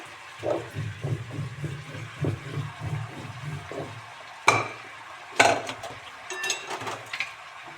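Katla fish head frying in a pan, a steady low sizzle with soft rhythmic stirring scrapes, then a couple of sharper clatters of utensil against the pan near the end.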